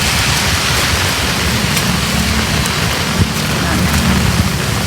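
Rain falls steadily and heavily on a town plaza in La Paz, a loud continuous hiss of drops hitting pavement with faint scattered taps and murmuring voices beneath.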